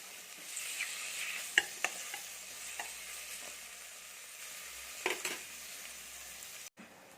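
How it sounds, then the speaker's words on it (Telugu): Sliced onions and curry leaves frying in a pan and stirred, a soft steady sizzle with occasional utensil scrapes and clicks close by, no talking. "ఇప్పుడు కొద్దిగా కరివేపాకు వేసి ఒకసారి బాగా కలుపుతాం"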